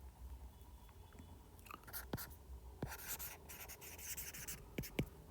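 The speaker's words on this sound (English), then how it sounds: "So this, first of all, let's write the given information." Pen scratching across paper while a physics problem is written out by hand, a close, quiet rasp of short strokes and taps with no talking.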